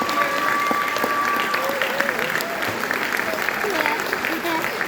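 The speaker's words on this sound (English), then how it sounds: "let's do a round of applause for all of our 7th grade" Seventh grade students receive a round of applause at a school award night: a brief, moderately loud burst of clapping from the audience that carries on steadily for a few seconds.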